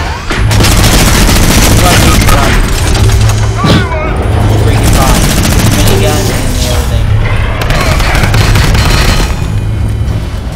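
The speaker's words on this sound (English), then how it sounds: "Mini gun." A minigun fires in a video game, a loud, continuous rapid roar that runs nearly the whole time, with brief dips and bursts. Other game noise clutters the background.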